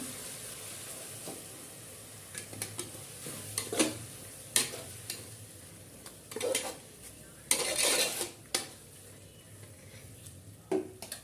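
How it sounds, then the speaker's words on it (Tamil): Ginger garlic paste, cinnamon and cloves are stirred into sautéed onions in a pan for biryani, a quiet background sizzle with irregular spoon scrapes and clinks against the metal. "சேர்த்து அதை கிண்டிக்கிறோம்."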